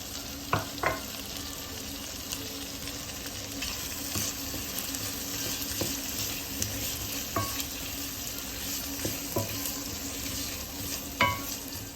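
Tomatoes and bell pepper frying in a pan while trofie con 'nduja is prepared, a steady close sizzle with a few sharp stirring clatters scattered through, no voices.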